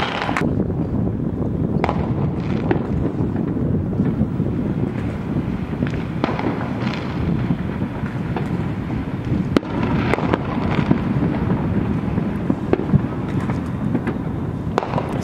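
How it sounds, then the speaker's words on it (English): Fourth of July fireworks go off around a Koreatown neighborhood, heard from a rooftop as a dense, continuous crackle and rumble with sharp pops throughout, some near and some distant. "We out here on the roof watching some fireworks go down."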